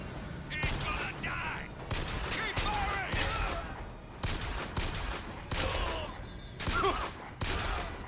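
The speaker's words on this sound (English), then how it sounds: "Guns sound good, and they have a good punch to them when you hit enemies." Rapid bursts of gunfire from BioShock Infinite's combat, a string of sharp, punchy shots and volleys at close range over a busy game mix, with a voice speaking beneath.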